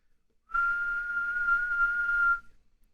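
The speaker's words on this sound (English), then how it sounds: "So if I whistle a 1 kilohertz tone" A single steady whistled tone, clear and sustained for about two seconds, starting and stopping cleanly with nothing else around it.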